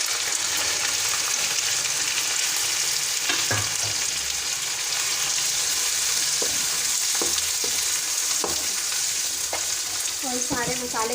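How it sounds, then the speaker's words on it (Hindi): Onions and tomatoes fry steadily in hot oil for a chicken masala kaleji dish, a constant close sizzle with occasional stirring scrapes and clinks of a spoon against the pan, no voices. "इसमें टमाटर डाल दें,"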